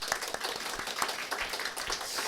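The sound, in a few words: congregation applause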